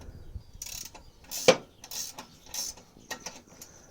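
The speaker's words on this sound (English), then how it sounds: "now we're trying to do these bolts up. It's 17mm both sides." A ratchet tightens 17mm flange nut bolts with short bursts of close, crisp clicking and one sharper knock partway through. No voices are heard.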